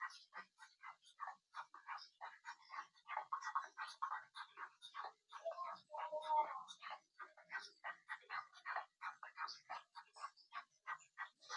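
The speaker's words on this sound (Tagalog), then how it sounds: "Aso pala na may mga anak." A mother dog with her puppies gives repeated short barks, yips and whimpers in a rapid, continuous series, moderately close but faint overall.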